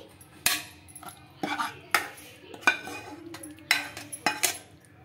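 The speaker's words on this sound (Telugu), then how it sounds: "ఇంకా ఇప్పుడైతే ఈ కర్రీని అంతా ఒక గిన్నెలోకి అయితే తీసుకుంటున్నానండి" Metal utensils scrape and clink against a pot while drumstick masala curry is transferred into a bowl, sharp irregular knocks, close by and with no talking.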